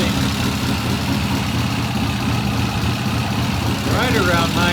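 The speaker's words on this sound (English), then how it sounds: "Beautiful idle. Right now it's idling" A 1972 Triumph TR6 just brought back to life in a workshop idles steadily at around 950 rpm, a loud, close, even engine rumble throughout with a brief higher-pitched whine rising near the end.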